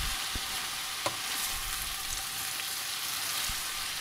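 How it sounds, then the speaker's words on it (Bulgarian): Spinach wilts in a frying pan as it is stirred, giving a soft continuous sizzle with occasional scrapes and taps of the utensil, close and without voices. "още докато го сложа, започвам да го разбърквам и виждате как той започва да намалява обема си"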